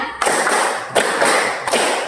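Children clap together during a counting game in a classroom lesson. Three broad group claps land at an uneven pace, and each one carries a long, noisy wash of overlapping hands.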